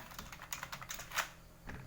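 Rapid clacking keystrokes on an old computer keyboard, near and fairly loud, with a sharper key strike near the middle and no talking.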